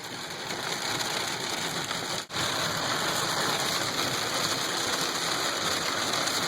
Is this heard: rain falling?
yes